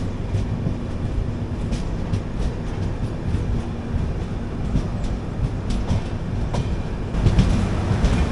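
The Kannur Express train runs steadily on the rails on the Bengaluru to Kannur route, a continuous loud rumble with clickety-clack wheel beats and a heavier burst near the end, heard from inside an AC coach.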